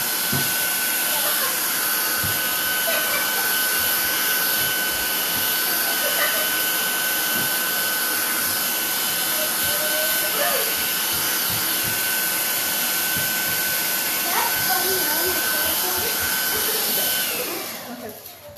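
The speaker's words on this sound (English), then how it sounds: "I just hit it really quick with a blow dryer" A handheld hair blow dryer runs steadily to dry chalk paste, a loud continuous whine and rush of air holding for the whole stretch, with faint clatter under it, before tailing off at the end.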